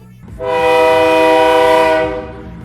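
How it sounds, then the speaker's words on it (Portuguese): A train rolls past with its horn blaring long and loud for about a second and a half, the blast swelling in and then fading, over the steady rumble of the rail cars. "Ó o trem!"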